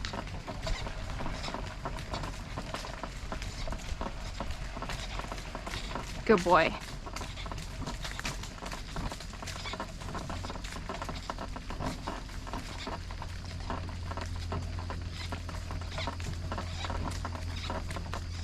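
Hooves of a driving horse clopping steadily outdoors, a continuous patter of rapid, even hoofbeats at moderate distance beneath wind noise, with a brief spoken voice near the middle.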